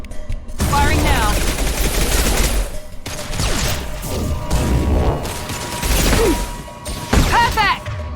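Rapid bursts of gunfire from the video game Mass Effect 2, played as a Vanguard on Insanity difficulty, run almost nonstop across the clip, dense and loud, with a sharp extra burst near the end.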